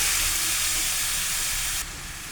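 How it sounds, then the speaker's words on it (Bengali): Grated carrots sizzle steadily in hot ghee with cardamom for carrot halwa, a close, even frying hiss that drops slightly near the end. "এটা একটু ভালো করে ভেজে নিতে হবে ঘিয়ের সাথে।"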